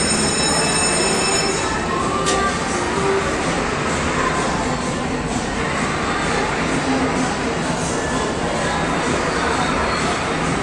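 A small train ride circling inside a shopping mall gives a continuous close rumble of wheels and motor with a faint squeal, steady and loud throughout.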